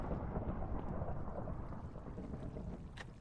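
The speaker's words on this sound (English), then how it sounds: "summon lightning bolt" A summoned lightning bolt strikes in Minecraft, giving a loud, close thunder crack that rolls into a sustained, rumbling roar for several seconds with no voices over it.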